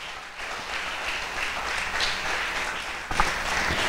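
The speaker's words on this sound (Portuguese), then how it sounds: "Você pode aplaudir ao Senhor nessa noite?" A church congregation claps together during an evening anniversary service, a steady wash of applause filling the room for a few seconds, with a brief louder swell near the end.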